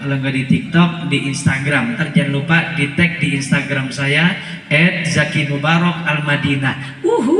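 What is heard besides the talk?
None of the usual background noises is heard.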